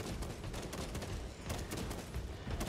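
Dense, continuous gunfire fills a firefight in the video game Space Marine 2, loud and close with rapid overlapping shots and no breaks.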